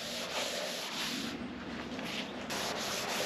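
A rag rubs wood stain across a dining table in overlapping passes, making a steady, soft, close swishing that runs on with no break and no talking.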